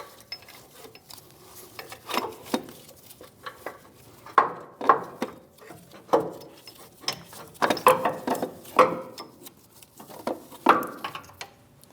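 A ratchet works a motor mount bolt loose on a RAM 1500 with a 5.7L V8, giving bursts of quick clicking strokes with pauses between, close and fairly quiet.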